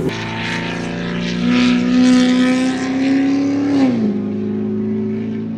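A heavily modified Fiat Multipla engine, tuned to 1294 horsepower, revs hard and loud close by, its pitch climbing steadily before dropping as the throttle eases off.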